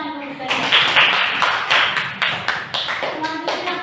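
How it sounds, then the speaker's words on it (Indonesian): A classroom group claps together in a burst of applause, a loud, close run of quick hand claps with rhythmic peaks, while voices are heard over it. "tepuk tangan dulu guys"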